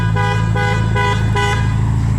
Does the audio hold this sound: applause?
no